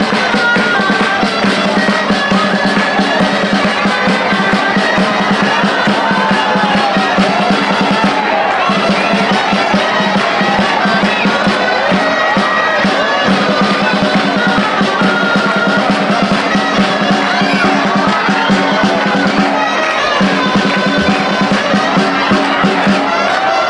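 A large outdoor crowd at a Catalan giants gathering in Calella claps and cheers steadily and loudly, a dense unbroken wall of applause with voices mixed in.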